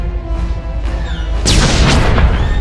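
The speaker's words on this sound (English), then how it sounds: "the Imperial ship has come under fire from the prison turrets and is going down" Heavy booming blasts from prison turrets firing on an Imperial ship over Belsavis in Star Wars: The Old Republic, a deep rumbling low drone that erupts into loud, sustained explosive bursts partway through.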